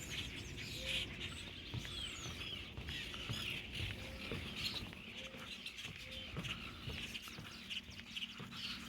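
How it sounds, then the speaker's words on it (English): Faint birds chirp and coo intermittently in the distance at early dawn beside water, with soft repeated calls over a steady low outdoor hum and no nearby voices. "You only hear the birds chirping in the background."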